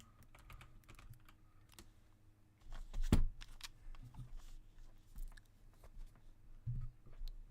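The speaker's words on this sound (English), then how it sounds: "This is literally what I'm doing whenever I'm clicking on my phone." Quiet, rapid tapping and clicking on a phone screen, with irregular light taps and one sharper knock near the middle, over faint background room noise.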